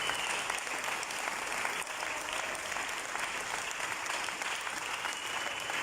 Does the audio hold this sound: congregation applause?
yes